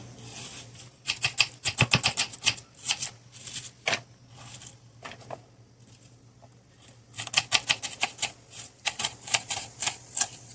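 A knife finely chops onion on a board for pani puri, with rapid, crisp taps in quick bursts separated by short pauses, close and fairly loud with no talk.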